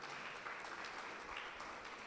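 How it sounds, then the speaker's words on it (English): A lecture audience gives the mayor a round of applause. The clapping is soft and distant, a faint, even wash of many hands that holds steady for about two seconds. "can we give him a clap of hands for that"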